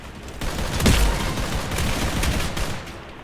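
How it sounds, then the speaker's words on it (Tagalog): Rapid gunfire crackles through a combat arena video game, a dense loud burst of shots peaking early and continuing as a sustained volley of pops. "Pistol lang talaga to, pre"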